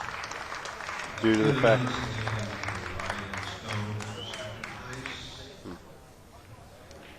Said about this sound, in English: Now you're hearing a lot of clapping